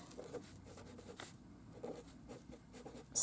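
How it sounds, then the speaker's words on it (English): Faint, close scratching of handwriting on paper comes in short strokes and pauses, with a brief louder rustle at the end. "So I'm going to write"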